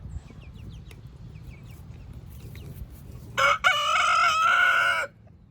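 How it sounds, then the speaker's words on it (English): A single loud Americana rooster crow bursts out after a few seconds of quiet chirping, long and strained with a brief break, close by. "And a loudmouth"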